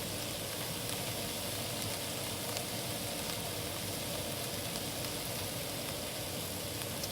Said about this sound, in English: And now we're going to be cooking the baby okra.